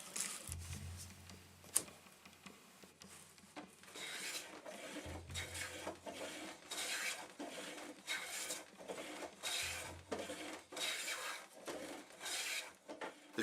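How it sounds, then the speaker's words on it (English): Hand plane strokes shave rough, gray weathered wood boards in a rhythmic series of rasping swipes, each followed by a soft low thump, quiet and close with no talking. "Planing away the rough gray exterior reveals the true color of the wood and its beautiful grain."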